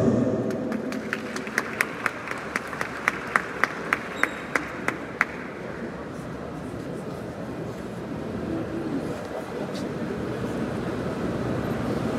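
Audience applause at a law and economics faculty graduation ceremony in Cap-Haïtien, a broad steady wash of clapping filling the hall with a few sharp louder claps standing out early on, continuing evenly throughout.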